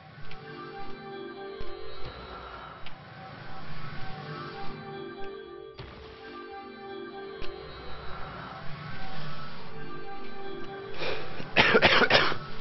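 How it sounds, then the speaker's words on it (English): Several sharp coughs and throat-clearing bursts from one nearby person, spread through the clip with a louder cluster near the end, over a low background. "Sorry for coughing."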